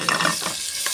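Onions, garlic and chopped chilli fry and get stirred in a pan, a close, steady sizzle with scraping utensil strokes over it.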